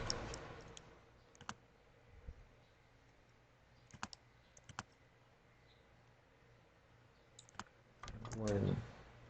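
Sparse clicks from a computer keyboard and mouse sound faint and close during data entry in a spreadsheet-based sales order system, with a short rustle near the end.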